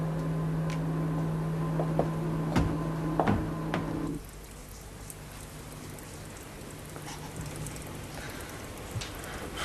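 Steady rain hisses continuously throughout, accompanied by a low hum and occasional clicks early on, then thins to a softer patter with no talking.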